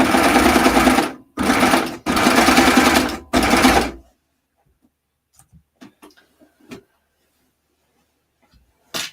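Sewing machine trimming raw fabric edges: four loud bursts of steady motor whirring, the last three close together, followed by near silence broken by small faint ticks and clicks.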